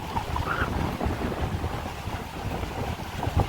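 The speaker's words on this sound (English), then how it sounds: "And it's starting to get windy" Steady wind rushes across the microphone in downtown Naperville, with a low, continuous rumble and no voices, the buffeting fairly even throughout.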